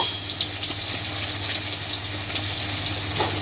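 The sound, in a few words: boiled potatoes shallow frying in hot oil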